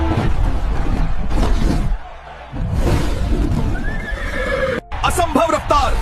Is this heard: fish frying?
no